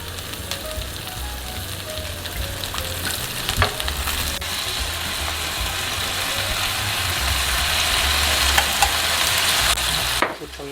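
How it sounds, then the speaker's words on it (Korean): Potatoes fry in cooking oil in a pan, a steady, close sizzle and crackle that holds for about ten seconds with faint scraping and clinks now and then. "감자를 식용유"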